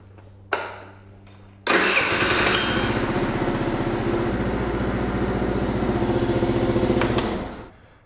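A small scooter engine cranks briefly, then catches and settles into a steady buzzing idle close by for several seconds before cutting off, with no talking.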